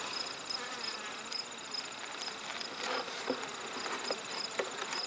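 Honey bees from a queenless hive buzz around an open hive during an inspection, a soft, continuous droning hum with scattered louder passes of individual bees close by.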